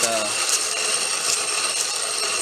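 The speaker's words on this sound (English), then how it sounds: "And start grinding. You can use any grinder that you have." A durable grinder runs continuously as it grinds eggshells for homemade tomato fertilizer, making a loud, close, steady gritty whirring rasp with no breaks.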